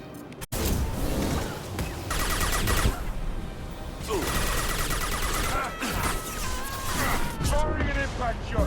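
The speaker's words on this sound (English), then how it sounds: "Firing an impact shot." Impact shot fired in the video game Mass Effect 2 Legendary Edition, a heavy weapon blast followed by sustained chaotic combat noise of gunfire and crashing hits, with talking mixed in throughout.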